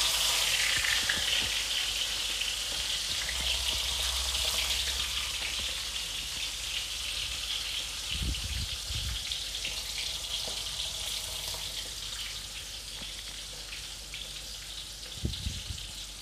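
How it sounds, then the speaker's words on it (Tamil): Fish sizzling in hot oil in a pan, a steady bright crackle and hiss that carries on for the whole stretch, with a few low knocks of utensils and no talking. "ஸோ மீனை வந்து நல்லா பொறிச்சு எடுத்துக்கலாம்."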